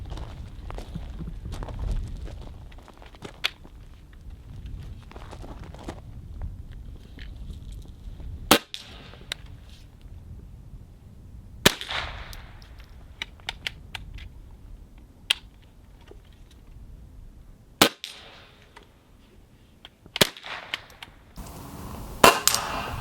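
Ruger 10/22 rifle fired with supersonic Remington ammunition, sharp isolated cracks spaced several seconds apart, loud against a quiet outdoor background with soft shuffling and handling noises between shots.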